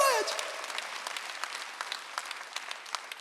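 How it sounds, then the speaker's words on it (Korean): Church congregation at a Sunday worship service breaking into applause: a brief spoken cue gives way to steady, moderately loud clapping from the crowd that fades slightly toward the end. "박수."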